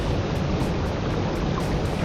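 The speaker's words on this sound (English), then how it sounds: "I hope you can hear me over that waterfall." Steady rushing waterfall in the horse-riding video game Star Equestrian, a continuous broadband roar filling the whole clip at even loudness with no voices.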